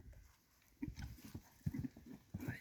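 Hooves of a sturdy horse used for the Alaman ulak game clip-clop faintly in an uneven rhythm, with soft rustling and background noise around the steps.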